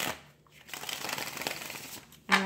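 Soft riffling and shuffling of tarot cards, a quiet papery rustle that swells and fades, ending with a brief sharper snap.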